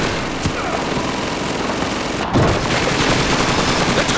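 Sustained submachine gun fire on a Red Army training range in Call of Duty 2, a dense continuous rattle of shots with a sharper burst midway, loud and near.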